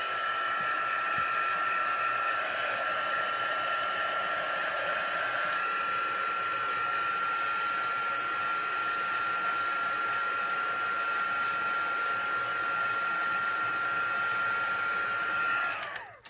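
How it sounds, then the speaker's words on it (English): A craft heat tool blows steadily for about sixteen seconds to dry shimmery ink on a handmade card, making a constant whirring hiss at close range before it switches off. "I'm going to just hit it real quick with my heat tool just to dry it."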